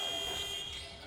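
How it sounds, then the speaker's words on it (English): A game buzzer sounds over the arena crowd at a FIBA Basketball World Cup 2019 qualifier, a sustained electronic tone lasting about a second amid steady court and crowd noise. "just about beats the buzzer"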